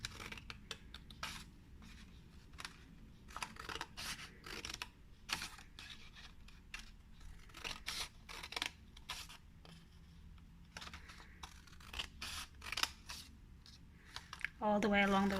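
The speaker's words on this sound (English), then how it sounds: "and you cut in little slits" Scissors snip a row of slits into paper for a Chinese paper lantern, giving quiet, quick, irregular crisp cuts close by, with a brief rustle of paper at the end.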